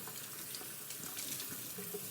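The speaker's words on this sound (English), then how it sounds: "I didn't get my ice bath down, but I just put it under cold water." Cold tap water runs steadily over boiled soba noodles in a kitchen sink, a constant hissing stream with slight fluctuations, moderately quiet and heard without talk.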